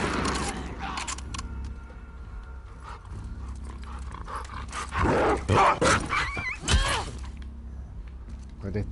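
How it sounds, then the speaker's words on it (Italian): Dogs barking in The Last of Us Part 2, a few loud close bursts around the middle over a steady game ambience with other noises. "Maledetti cani."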